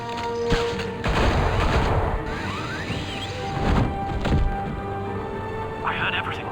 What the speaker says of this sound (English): It's Batman! Shoot him